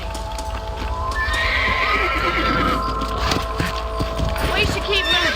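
A horse in Red Dead Redemption on a ranch gives a clear neigh, then its hooves clip-clop along at a steady trot, mid-distance, with game music and ambience underneath and a voice speaking.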